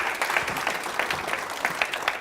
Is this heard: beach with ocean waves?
no